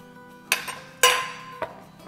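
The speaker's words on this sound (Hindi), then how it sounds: "इसमें एक हाथ से हम डालेंगे अपना कस्टर्ड का मिक्सचर और एक हाथ से हिलाते जाएंगे" A custard mixture stirred in a pot for shahi malai tukray, with several sharp metallic clinks and knocks of a utensil against the pot, spaced irregularly and heard alone in a quiet kitchen.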